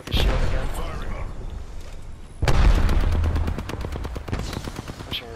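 Gunfire in a video game shooter: a loud opening blast followed by sustained rapid automatic fire, close and heavy, while a voice speaks over part of it.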